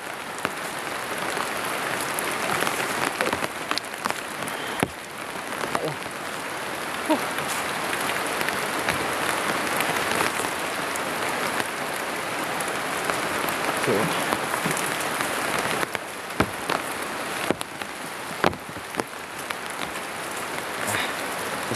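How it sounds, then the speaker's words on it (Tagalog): Heavy rain pours down hard and close, a dense constant roar of drops with scattered louder splats and pattering throughout, with no voices. "talagang napakalakas ng ulan ngayon"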